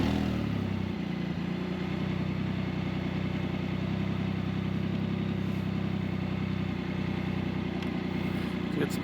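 Can-Am Spyder RT three-wheeler engine on its first ride after belt alignment and tension repairs, a steady close rumbling drone with a constant low hum throughout and no talking.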